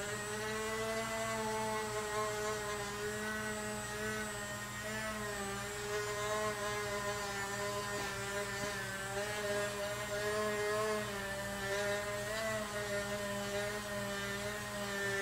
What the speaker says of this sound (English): either using your wood slicker or the Dremel like I'm going to use,